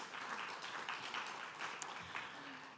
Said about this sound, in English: Let's applaud the members of the FFC too.